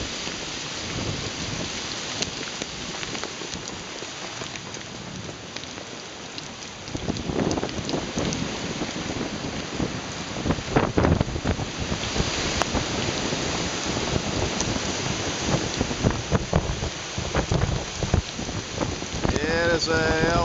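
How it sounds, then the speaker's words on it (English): Heavy rain pounds steadily at a campsite during a violent thunderstorm, with gusting wind and low rumbles of thunder building and swelling throughout, loud and continuous with no speech. "It is a hell of a storm."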